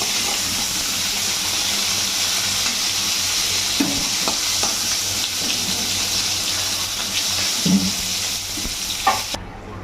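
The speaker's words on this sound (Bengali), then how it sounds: "এবারে ওই তেলের মধ্যে চিংড়ি মাছগুলো ভেজে নেব।" Prawns fry in hot oil, a continuous loud sizzle and hiss with a few soft clinks and stirring knocks scattered through it, no voices present.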